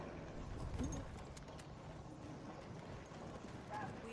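Horse galloping in Battlefield 1, quick rhythmic hoofbeats at moderate distance, fairly faint amid game ambience.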